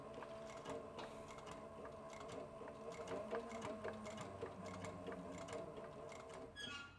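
A sewing machine runs steadily while stitching a leather satchel, its rapid mechanical stitching rhythm humming and clicking close up without any talking.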